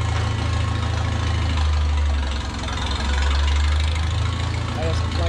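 A hay tractor engine with a worn carburetor runs close and loud with a low, uneven throbbing that surges and sags briefly, with a voice speaking over it.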